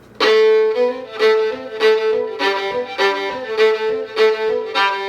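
A fiddle plays a fast, driving Georgia shuffle bowing rhythm, repeated bowed notes pulsing steadily with strong accents, loud and close with no talking.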